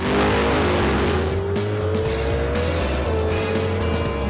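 A police car makes a drag racing pass at The Strip in Las Vegas, with a loud, close engine roar whose pitch climbs steadily through the gears, plus a tire squeal, sustained at full volume throughout.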